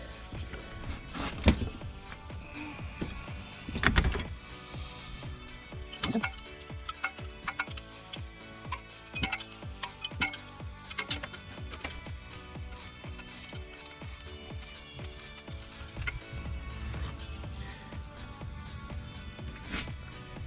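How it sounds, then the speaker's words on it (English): Box wrench clicking and ticking on a spark plug socket while loosening and removing a car's spark plug, with irregular metallic ticks and rattles running throughout, close and fairly loud with no talk. "you take your box wrench like so"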